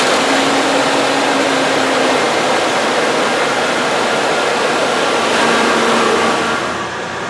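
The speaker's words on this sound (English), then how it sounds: "Let me make sure this isn't in gear and I'll start it." A custom 4x4 Ford Ranchero conversion with a newly fitted exhaust starts and settles into a loud, steady running roar close by, the sound easing slightly at the end, with no talking.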